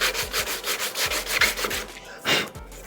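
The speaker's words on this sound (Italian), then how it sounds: "Io poi passerò anche un po' di levigatrice per purificare tutta la superficie e scrostare bene" Close, rhythmic back-and-forth scraping as glossy old children's furniture is sanded, with regular strokes that briefly pause and then resume.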